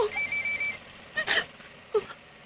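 A cellphone rings with a bright, steady electronic tone for under a second, followed by two short, soft rustling or clicking sounds close by.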